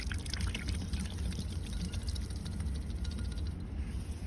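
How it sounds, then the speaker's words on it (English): Water pours and gurgles steadily from an old 1880s–1890s glass bottle dug from the ground, a continuous close splashing trickle with no talk. "Let's see if we can get her all the water out of her."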